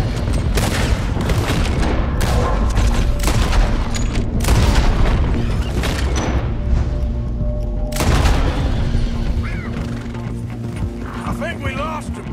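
Gunfire from a horseback chase in the video game Red Dead Redemption 2, with shots and booms over hoofbeats, game noise and someone talking throughout.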